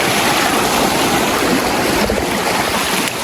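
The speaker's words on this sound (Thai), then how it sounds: "น้ำแรงมาก แรงเอาเรื่องเลยนะทุกคนนะ" A strong stream of fast water rushes loudly and steadily, a dense broadband roar that holds throughout with no pauses and no voices.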